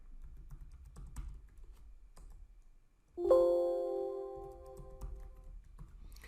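A computer keyboard ticks with quiet, scattered keystrokes as a login password goes in, and a short chime-like tone sounds partway through.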